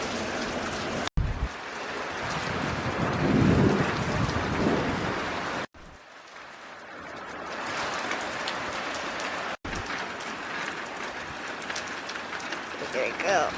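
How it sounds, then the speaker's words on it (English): Heavy steady rain pours down with a dense hiss, occasional low rumbles of thunder beneath, continuous across several cuts. "I really love the rain."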